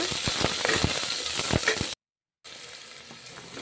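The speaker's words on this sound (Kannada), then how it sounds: "ಈರುಳ್ಳಿ ಹಾಕ್ತಾ ಇದ್ದೀನಿ ಚೆನ್ನಾಗಿ ಫ್ರೈ ಮಾಡ್ಕೊಳ್ಳೋಣ" Green chillies, curry leaves and chopped onion fry in hot oil in a pan, a loud close sizzle with crackling pops and stirring clinks, then a brief silent cut before a softer steady frying hiss.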